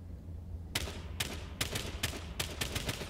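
AK rifle fire in a video game, a spaced series of about six sharp single shots at a steady rhythm, fairly close and loud over a low background rumble.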